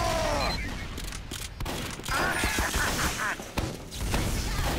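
Rapid gunfire and crashing impacts in Team Fortress 2 as sentry guns are destroyed, bursts of shots and smashes layered over game noise, loud and busy throughout.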